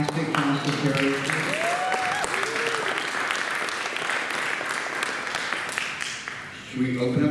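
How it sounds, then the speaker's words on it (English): Sustained audience applause fills a press conference room at San Diego Comic-Con steadily for several seconds, a dense wash of many hands clapping, with faint voices mixed in before it tapers off. "Round of applause for this fantastic cast of characters."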